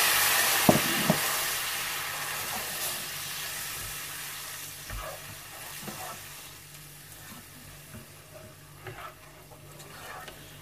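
Onions sizzle and fry in a pan as seviyan (vermicelli) dessert is made. A steady close hiss runs throughout, with occasional stirring clinks and scrapes and no talking.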